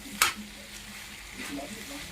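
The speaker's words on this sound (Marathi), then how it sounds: "तर याला ना असं तेल सुट द्यायचं मस्त तेल सुटतं याला आणि थोडं परतून द्यायचं" Spiced masala fries in oil in a pan, giving a soft steady sizzle after a sharp clink at the start, while someone talks quietly over it.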